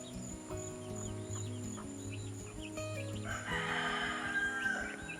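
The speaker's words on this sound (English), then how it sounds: "Mama hen and her babies are in my garden." A mother hen with her chicks in a garden, soft clucks and chick peeps mixed with other bird calls, fairly faint and distant, no talking.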